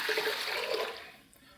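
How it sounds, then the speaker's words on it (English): Six quarts of water poured into a cooking pan for pasta, a loud rushing splash that tapers off as the stream ends, heard alone. "So we have here 6 quarts of water. We're going to pour it into our pan."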